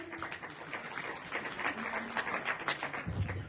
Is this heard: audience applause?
yes